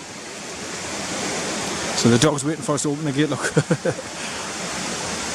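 River water rushing past stones along the bank, a steady broadband hiss throughout, briefly overlaid by someone speaking close by.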